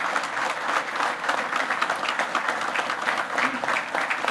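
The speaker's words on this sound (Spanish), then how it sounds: "Y fuertes aplausos" Audience at a gathering of mayors in Huánuco giving a steady round of applause, moderately distant and even, with no voices standing out.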